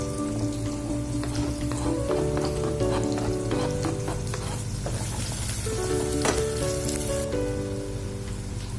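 Garlic frying in a pan for ginataang hipon, a steady dense crackling sizzle that stays close and even throughout, with a musical background running underneath and no talking.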